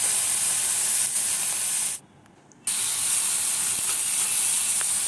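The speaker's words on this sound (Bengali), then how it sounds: "তেলটা ভালো মতো গরম হলে এর মধ্যে চিকেনের পিসগুলো দিয়ে দিচ্ছি।" Chicken kalmi kabab pieces sizzle loudly in hot oil in a pan, a steady bright crackling hiss that briefly drops away, then resumes at full strength.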